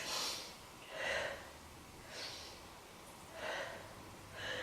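Slow, steady breaths drawn in and released during a held yoga pose, about four soft airy swells in the space of a few seconds, close and quiet with no talking.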